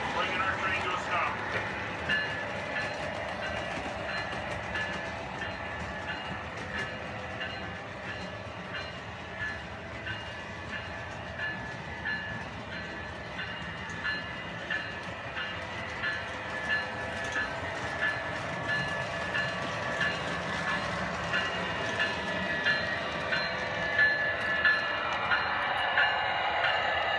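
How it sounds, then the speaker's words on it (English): A freight train rumbles steadily with metallic rail noise and faint screeching, continuous and fairly close, slowly settling as it comes to a halt. "Bringing our train to a stop."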